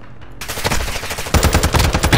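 Rapid automatic gunfire from a video game match in its final minute, loud and continuous, with a dense burst of fire that grows heavier partway through and no talking.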